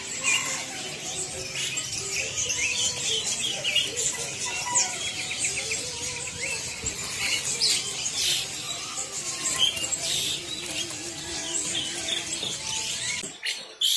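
Asian pied starlings sing among other caged birds at a bird market stall, a dense, continuous mix of chirps, whistles and chattering calls at moderate volume, with no voices.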